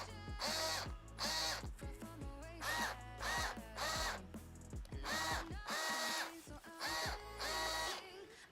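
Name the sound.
Bosch power drill driving screws into plastic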